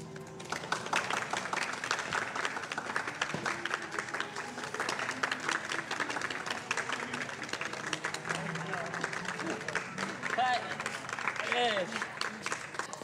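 Film extras applaud on a public pier during a movie shoot, a steady crackle of many hands clapping at a moderate distance. Voices and shouts mix in underneath throughout.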